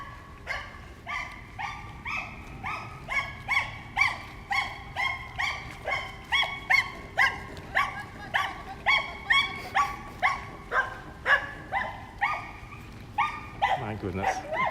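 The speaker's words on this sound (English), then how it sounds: "There's a doggy there." A dog on a sunny Tokyo street barks steadily and rhythmically, about two barks per second for the whole stretch, moderately close over a low background hum.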